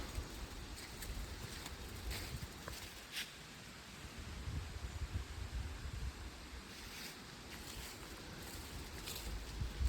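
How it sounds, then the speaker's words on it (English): Wind gusts along a hiking trail among sycamore trees, a faint, restless rushing with low rumbles on the microphone that swell and ease without any voices. "Hopefully you can hear that wind blowing through the trail."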